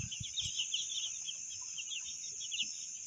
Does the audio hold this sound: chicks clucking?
yes